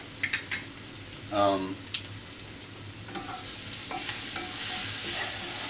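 Garlic sautés in a pan with a steady sizzle that grows slightly louder over time, with a few utensil clinks and a brief harmonic tone near the start; no clear talking.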